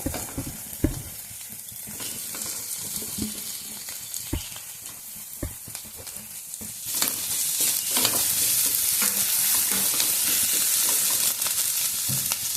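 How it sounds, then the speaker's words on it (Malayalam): Mashed potato goes into a hot pan with turmeric and chilli powder, bringing a close, continuous sizzle and frying hiss with scattered stirring knocks; the sizzle swells louder and brighter partway through. "ഇതിലേക്ക് നമ്മൾ കുടച്ച് വെച്ച ഉരുളക്കിഴങ്ങ് ഇട്ട് കൊടുക്കാം"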